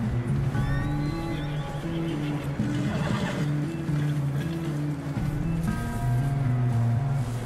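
A horse in the Red Dead Redemption 2 video game neighs and whinnies in a snowy setting, with steady low engine-like drone and game ambience throughout.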